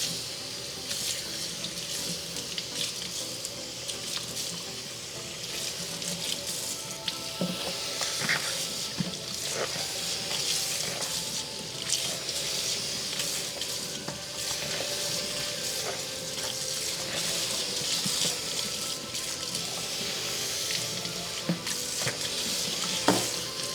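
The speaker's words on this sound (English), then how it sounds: "now I'm gonna rinse my conditioner out" Water runs and splashes steadily over wavy clip-in hair extensions as conditioner is rinsed out, a continuous close-up gush like a filling sink with no voices.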